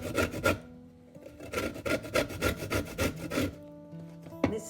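Lemon rind rubbed against a grater for zest, a steady rhythmic rasping of short strokes in quick succession, close and fairly loud, ending with a sharp tap.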